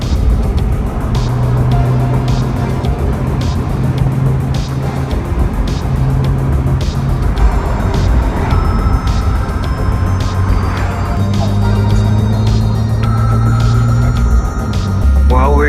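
A 2006 Porsche Boxster S with a 3.2L engine and nearly 100,000 miles drives along steadily, its engine drone holding a constant hum as it shifts through gears, with road noise throughout and a voice speaking now and then.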